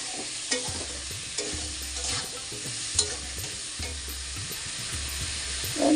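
Spices being stirred in a hot frying pan, a continuous sizzle broken by regular scraping strokes of a spoon, close and steady, with a final clatter at the end.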